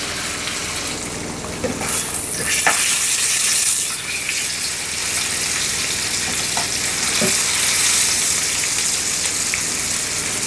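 Salmon fillets fry in a pan over gas, giving a loud, close, continuous hissing sizzle with a few brief knocks as the pieces are shifted onto their sides.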